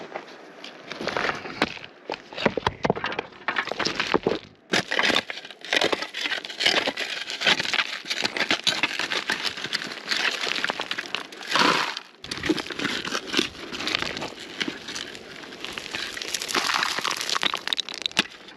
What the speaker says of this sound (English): The gravels here are looking a little crunchier, so I'm going to take a pan from here